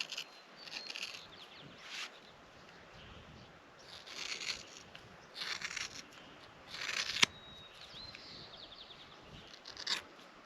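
Scissors trim a Fjord horse's mane in short, crisp snips every second or so, close by, with quiet rustling of hair between the cuts.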